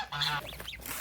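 Farm geese from a flock that includes Toulouse geese give a short burst of nasal honks, one fairly close and clear, followed by a couple of quieter calls, with no talking.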